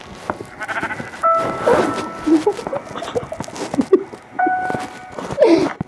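A few Minecraft sheep bleats, two distinct calls separated by a pause, among clattering and patter from the game.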